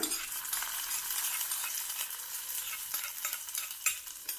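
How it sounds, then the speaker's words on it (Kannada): Hot tempering poured into tomato chutney in Tamil Nadu style, crackling and sizzling steadily with stirring scrapes throughout, close and fairly loud, with no talk. "ಇದನ್ನ ನಾನು ಚಟ್ನಿಗೆ ಹಾಕ್ತಾ ಇದ್ದೀನಿ ಇವಾಗ ಒಗ್ಗರಣೆನ ಇವಾಗ ಇದಕ್ಕೆ ಹಾಕ್ತಾ ಇದ್ದೀನಿ"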